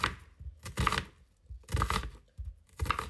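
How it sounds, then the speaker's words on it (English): A knife cuts an onion into thin slices on a cutting board, several crisp, close chops falling in a loose rhythm with short gaps between strokes. "And then I just take the onion and cut it down"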